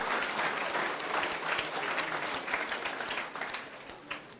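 Steady audience applause fills a wedding hall during a live student training session, dense many-handed clapping throughout that thins slightly in the last second.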